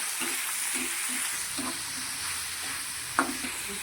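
Onions sizzling in a pan while being stirred, with soft rhythmic scraping strokes over a continuous frying hiss and a sharper clack near the end, no one speaking.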